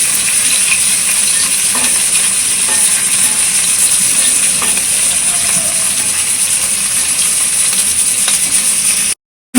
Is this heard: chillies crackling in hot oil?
yes